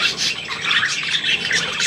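A pet budgerigar squawks and chirps in a steady run of harsh, scratchy calls after flying in to perch, close and fairly loud throughout with no talking.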